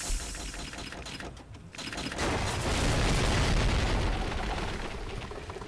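A heavy boom builds into a sustained, loud rumbling roar like explosions and crashing debris as a ship is sunk by cannon fire in a pirate naval battle video game, swelling in the middle then slowly easing off.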